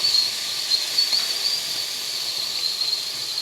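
Ivy gourd and soaked chana dal frying in a pan, a faint, steady hiss of sizzling oil continuing evenly throughout without talk.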